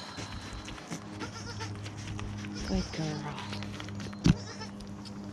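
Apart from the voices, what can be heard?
baby goats bleating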